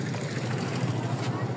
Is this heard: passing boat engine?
yes